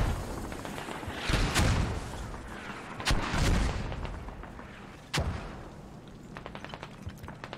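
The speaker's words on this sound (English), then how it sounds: "Those mortars are accurate and hostile." Mortar rounds in a multiplayer war video game land in heavy booms, three or four big blasts a second or two apart with rumbling tails, followed by lighter scattered gunfire.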